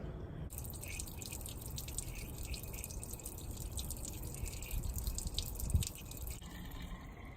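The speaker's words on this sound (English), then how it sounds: "Now I'm going to drain the radiator again and repeat the process with just water." Coolant drains steadily from the radiator of a Mustang GT, a continuous trickling, splashing liquid flow with faint drips, heard close and alone at a moderate, even level.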